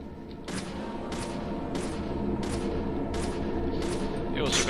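Repeated gunshots fired at an enemy in the video game Deadly Premonition, six or seven sharp bursts at a steady rhythm over a constant game background hum.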